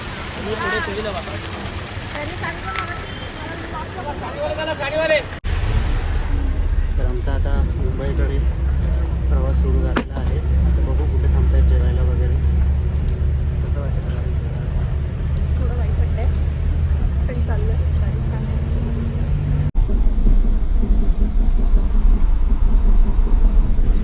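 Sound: car driving on road during journey

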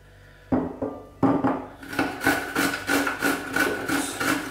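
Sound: cucumber being grated on coarse side of grater

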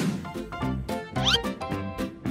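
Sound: cat meowing

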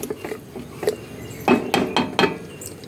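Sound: stirring cumin in cooking pot for rajma curry

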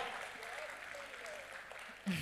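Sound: audience applause at poetry event

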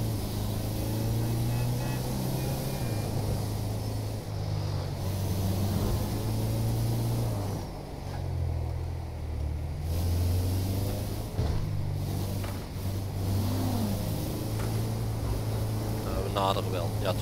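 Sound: hijacked bus speeding away, from the video game GTA 5

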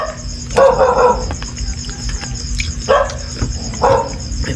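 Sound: dog barking

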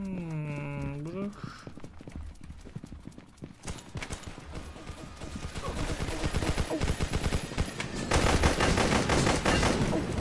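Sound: gunfire in the video game Roblox

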